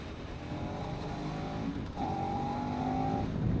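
A KTM Super ADV 1190 S motorcycle accelerating hard on a group ride, its engine drone steady and loud with a rising tone partway through, heard from on board under rushing wind.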